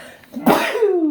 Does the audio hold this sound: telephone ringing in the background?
no